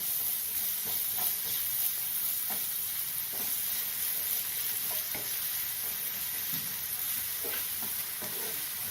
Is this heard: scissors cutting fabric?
no